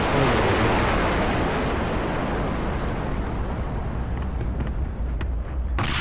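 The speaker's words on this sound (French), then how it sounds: "J'ai vu l'explosion venir vers nous" Loud, continuous rumbling roar of an explosion in the Bleach anime, episode 276, sustained throughout with a few sharp crackles near the end.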